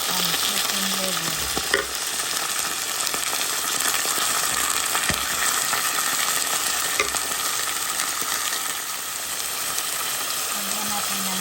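Chicken liver and lemon fry in a pan for adobo, giving a constant loud sizzle with stirring and scraping throughout, and a few faint clinks.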